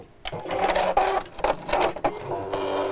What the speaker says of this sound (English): And I'm sewing as close as I can,